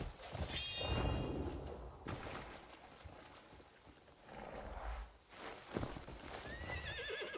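Horse hooves pound rhythmically in the video game Crimson Desert, with whinnies and snorts rising over a steady ambient game score and occasional swelling effects.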